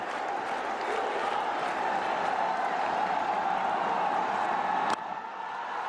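At a Pakistan versus Bangladesh one-day cricket match, a large stadium crowd keeps up a steady roar of cheering and clapping, dense and unbroken for several seconds before dropping off sharply near the end.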